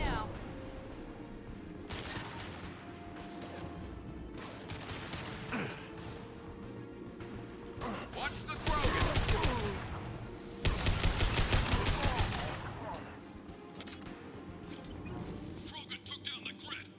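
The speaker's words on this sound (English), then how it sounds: "Man, I love armor-piercing bullets" Armor-piercing weapon fire in Mass Effect 2 comes in several loud, rapid bursts among mechanical clicks and thuds, spaced across the stretch with quieter gaps, while a voice talks at times.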